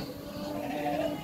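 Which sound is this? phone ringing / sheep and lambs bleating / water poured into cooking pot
sheep and lambs bleating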